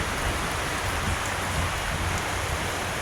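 Steady rain falls in a dense, even hiss outdoors near fallen trees, a soft continuous patter with no voices over it.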